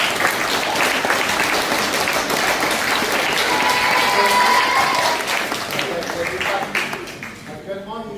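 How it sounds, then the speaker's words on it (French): Loud, sustained applause from a crowd at a boxing club's general assembly, dense clapping throughout that thins out near the end. "On peut applaudir très fort là-bas."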